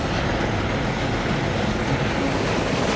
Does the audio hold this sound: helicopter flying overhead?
yes